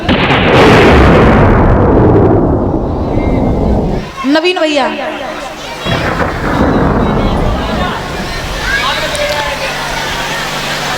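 Thunder cracks and rolls loudly through a heavy rainstorm, a sustained roar that drops away suddenly. Then come softer rumbles and shimmering tones while voices carry on over it.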